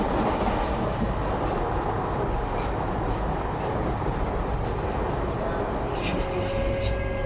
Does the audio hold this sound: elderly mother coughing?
no